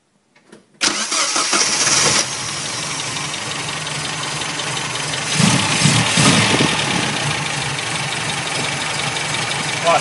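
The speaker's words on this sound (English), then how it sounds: "we're ready to start the engine" After a short silence, an MGB car engine cranks briefly, catches with a roar, then settles into a steady idle with a slight revving surge.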